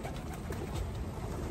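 Racing pigeons coo softly in low, murmuring calls, faint and somewhat distant beneath a steady outdoor background hum.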